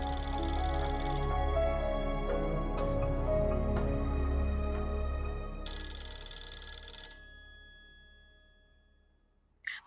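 A telephone bell rings in a domestic scene from a Pakistani TV drama, with repeated bright tones over a low background hum, loud and close, then stopping abruptly.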